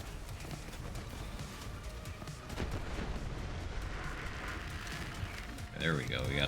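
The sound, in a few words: explosion in video game Borderlands 3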